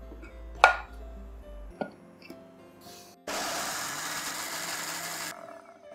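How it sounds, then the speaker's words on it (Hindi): Electric grinder jar blending almonds with a little water, preceded by a few sharp knocks as the jar is handled, then a loud steady whirring grind for about two seconds that stops abruptly. "सबसे पहले हम बादाम को अच्छी तरह से पीस लेंगे। ग्राइंडर जार लेंगे, उसमें ये बादाम डाल देंगे"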